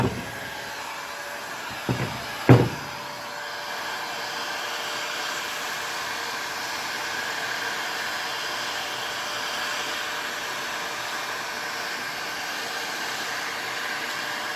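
A heat gun warms the front wheel hub of a GasGas motorcycle around its bearing, a steady close blowing whoosh running throughout after a couple of brief knocks near the start.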